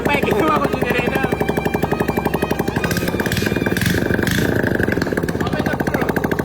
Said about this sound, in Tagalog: Hindi ko ginawa drag bike, ginawa ko generator.